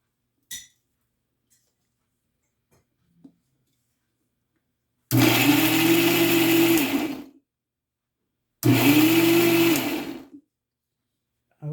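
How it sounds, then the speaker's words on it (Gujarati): Kitchen blender blending organic tomato sauce in two loud whirring bursts of about two seconds each, separated by a short pause, with faint clinks before. "ઓર્ગેનિક ટામેટા સોસ છે એ અમે લીધો છે, એ એડ કરી દઈને થોડોક બ્લેન્ડ કરીશું પહેલાં"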